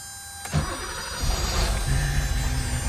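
A BMW E28 car engine cranks with a sharp starter clunk, then catches and builds into a rough, rumbling idle close by.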